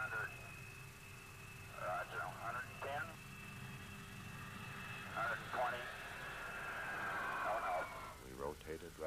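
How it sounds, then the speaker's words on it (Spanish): A large airplane takes off, its engines a steady drone with a sustained high whine that holds under people talking over it. "Luego enciende los controles y se dispone a despegar."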